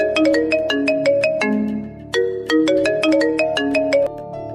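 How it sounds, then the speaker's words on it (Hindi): A bright electronic phone ringtone plays a bouncy repeating melody of plucked, bell-like notes, loud and close, with no talking over it. "जरा फोन आ रहा है"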